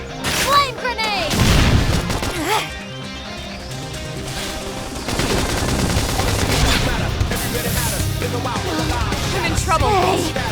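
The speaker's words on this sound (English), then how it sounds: "Flame grenade!" A flame grenade explodes in the video game Xenoblade Chronicles X, heavy booms and blasts amid combat noise, with voices talking over the fight.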